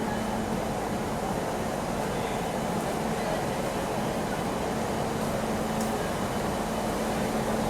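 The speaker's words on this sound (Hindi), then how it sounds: "सबसे पहले देखिए लाइट वेब 7 लोकोमोटिव यहाँ पहुँच रहा है" A Howrah-shed WAP-7 electric locomotive pulls into a railway platform, giving a steady, continuous low rumble and hum that holds at an even level throughout, with faint station noise above it.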